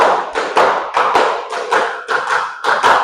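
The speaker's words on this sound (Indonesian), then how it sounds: "tepuk empat sebanyak 4 kali" A school class claps hands in a four-beat pattern, loud, sharp bursts of many hands in quick repeated groups, close and without talking.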